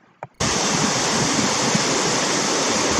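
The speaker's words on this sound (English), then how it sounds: "First things we did when we got to the campground was to go see more of the Cimarron River." Cimarron River in Cimarron Canyon near Eagle Nest, New Mexico, rushing loudly and steadily as broadband flowing water, starting abruptly after a brief quiet moment with a faint knock.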